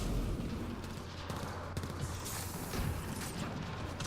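Sniper rifle fire in the multiplayer mode of Mass Effect Andromeda, a few sharp cracks breaking through dense, continuous battle noise and mechanical clatter, with no voices over it.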